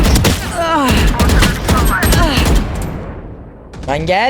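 Rapid bursts of gunfire from the Valorant video game crackle loud and close in quick volleys, with a person talking over them and a brief lull before a final burst.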